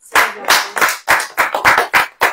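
A church congregation claps during a Hindi sermon, about nine loud, crisp, evenly spaced claps in a steady rhythm, close and unaccompanied by talk.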